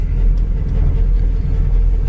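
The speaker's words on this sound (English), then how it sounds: "Go ahead and wait for this car." A car rumbles past on the road near a parked 1972 Chevy Nova, a loud, steady low-pitched engine and tire drone, close by with no talk.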